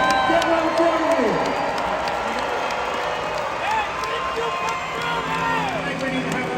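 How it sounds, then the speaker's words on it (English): A large arena crowd at a Hot Wheels monster truck live show cheers and shouts continuously, with whistles and applause mixed in, and a voice talks over the steady roar. "Hot Wheels fans, make some noise for Taylor Holman, Demo Derby."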